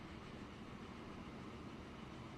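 Trains in the railway simulation game Transport Fever roll past as a steady, faint rumbling wash of rail noise with no distinct clicks or voices.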